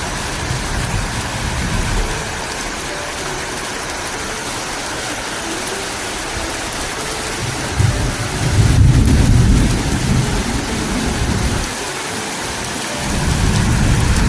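Steady rain pours down with deep rumbles of thunder rolling in and swelling louder near the middle and end, no voices present.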